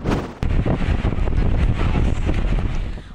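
Strong typhoon wind roars and buffets the microphone in the coastal town of Santa Ana, Cagayan, where seas run rough, a loud, dense, continuous rush with gusty surges throughout.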